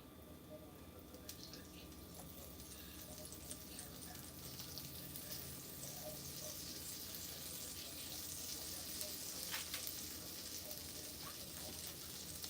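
Butter sizzling in a hot cast iron pan while cooking stuffed salmon, a soft, steady crackle and hiss with faint pops, heard quietly under a low background hum.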